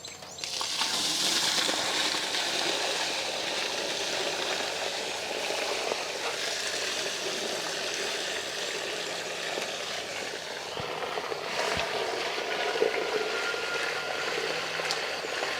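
Water gushing and splashing out of heavy 50-gallon barrels tipped over outdoors during cleanup, a continuous broadband rush lasting throughout with no talk.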